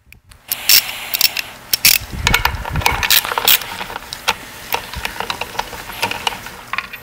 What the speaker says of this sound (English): we'll tighten down the 6 cover nuts